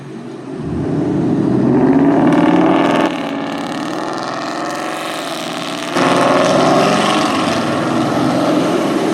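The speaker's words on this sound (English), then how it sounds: "That's just totally unnecessary to modify your exhaust" A car with a loud modified exhaust roars past in highway traffic, its drone rising and swelling in two loud surges close by, with no voices.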